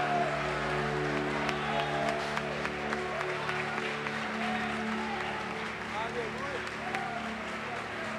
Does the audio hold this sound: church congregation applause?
yes